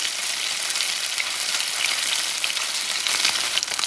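A sea bass fillet frying in hot oil in a pan, giving a loud, steady, close sizzle with fine crackling that carries on unbroken, with no talking.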